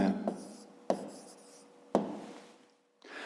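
Pen writing angle labels on paper during a fifth-grade geometry construction, several short scratchy strokes separated by sharp taps, close and quiet with no talking.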